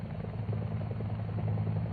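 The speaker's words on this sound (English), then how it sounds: "Their mission complete, all aircraft return to base for refueling and rearming." Air Force UH-1 helicopters flying back to base in 1970, a steady, loud rotor thump and engine drone continuing throughout with a regular beating rhythm.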